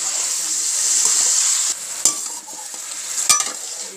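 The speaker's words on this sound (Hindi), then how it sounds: "लहसुन डाल के इसको मैं पकाऊंगी" Garlic fries and sizzles in oil for a Peshawari Shinwari beef karahi, a steady close hiss broken by a couple of sharp stirring clinks and scrapes.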